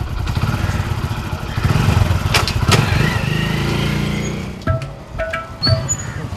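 A motorcycle engine running close by, a steady low rumbling drone that eases off midway, followed by a few sharp clicks and knocks near the end.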